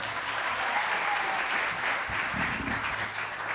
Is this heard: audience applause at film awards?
yes